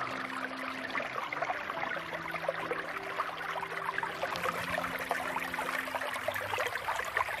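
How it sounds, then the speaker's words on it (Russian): Babbling mountain streams near Zabojsko lake give a soft, continuous trickle and gurgle of running water, steady and moderately faint throughout. "журчат ручьи."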